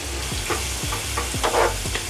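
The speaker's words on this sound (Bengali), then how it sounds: "একটু সময় নিয়ে আস্তে আস্তে পেঁয়াজটাকে ভাজতে হবে।" Onions frying slowly in a pan until lightly browned, with a steady close sizzle and about six soft rhythmic stirring scrapes, no voices.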